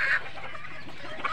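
A farm chicken gives a couple of short clucks, a brief call at the start and another near the end, moderately faint against quiet background noise.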